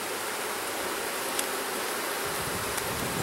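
Honeybees buzz steadily around an opened hive frame, stirred up and agitated after being smoked. The dense hum stays close and even throughout, with no talk over it.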